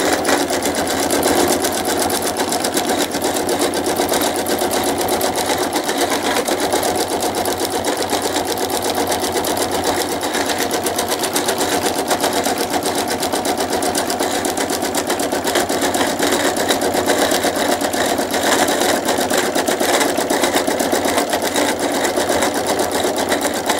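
Sewing machine stitching along a quilt, a steady continuous whirring drone that runs almost unbroken and close for the full length, with no talk over it.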